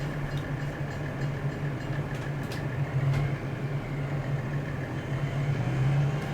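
A train in the video game Farming Simulator 25 rolls by as a continuous low rumbling drone with a steady engine hum, fairly even in loudness and with no talk over it.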